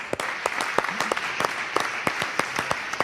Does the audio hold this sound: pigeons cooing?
no